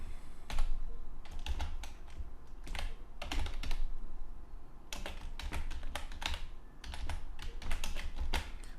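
Rapid typing on a computer keyboard while entering PHP code, with clusters of key clicks separated by short pauses, close and fairly loud, no talking.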